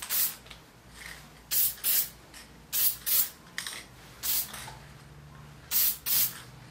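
Short bursts of aerosol spray paint hiss onto a guitar body, about ten of them in quick pairs with brief pauses between, close and fairly loud over a quiet background.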